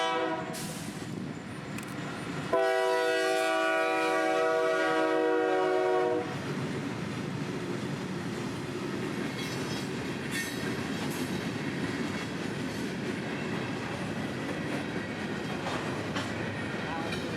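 CSX freight train passing on the Brooksville Subdivision in Florida, its horn blasting loudly in a sustained chord near the start, followed by the steady rumble and clatter of the rolling train close by.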